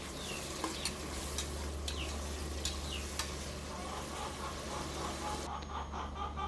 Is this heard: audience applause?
no